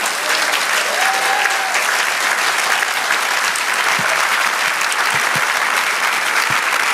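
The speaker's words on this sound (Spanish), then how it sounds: "Ahora denle un aplauso al Señor." A church congregation at a Spanish-language worship service applauds loudly and continuously, a dense, steady clapping with no speech.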